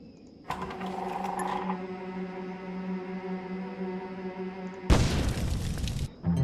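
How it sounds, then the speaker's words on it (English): A chest in the medieval strategy game Yreon turns out to be a bomb, giving a sudden loud booming blast with a noisy rumbling tail, after a sustained droning tone. "And it was another bomb."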